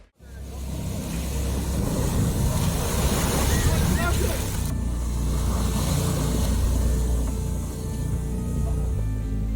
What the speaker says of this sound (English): Torrent of muddy water seems to lose all control, barreling down the channel